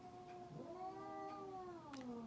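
Cats fight indoors with a drawn-out, wavering caterwaul, a long rising and falling yowl that is faint and held for about two seconds.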